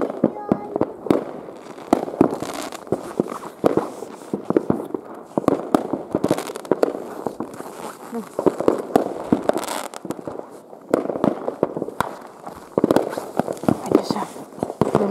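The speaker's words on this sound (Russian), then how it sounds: "Что это они бабахают? Фейерверки?" New Year fireworks burst in the distance at midnight, a steady series of sharp bangs and crackling pops at irregular intervals, with people speaking now and then.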